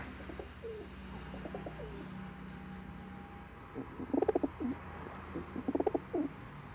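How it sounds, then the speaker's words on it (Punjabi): Several Malwai pigeons coo in soft, low, rhythmic bursts, growing louder toward the end, over a quiet background hum. "ਕਾਫੀ ਹੈਗੇ ਕਬੂਤਰ"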